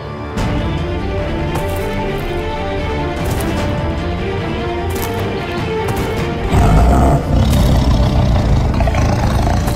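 A jungle tiger gives loud, rough roars over a rumbling vehicle engine, the sound growing heavier and louder toward the end.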